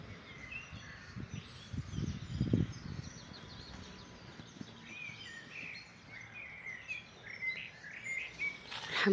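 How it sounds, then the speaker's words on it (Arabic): Small birds chirp and tweet outdoors in a natural setting, a steady scatter of faint high calls with insect-like trilling underneath, plus a brief low rustle partway through. "صوت عصافير، ما تسمع غير صوت عصافير"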